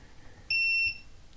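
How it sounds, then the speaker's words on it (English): A multimeter on continuity mode gives one clear, steady electronic beep lasting under half a second while it tests a capacitor near the Wi-Fi IC on a PlayStation 5 board, with a faint hum around it. "One side of the capacitor should beep and the other side shouldn't."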